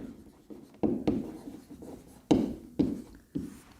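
A pen writes a word by hand, giving a series of scratchy, tapping strokes about a second apart, close and fairly loud, with no talk.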